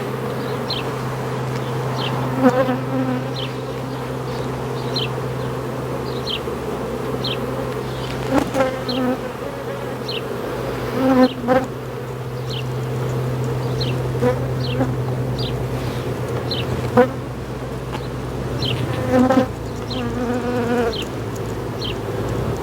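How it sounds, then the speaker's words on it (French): Steady, dense buzzing of a honeybee swarm being transferred into a small hive fills the scene, with a constant low hum and a few louder bees passing close by. "Très blindé en abeilles."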